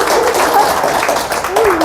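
An audience at a book concert for a newly published book gives a round of applause, steady clapping with voices talking over it.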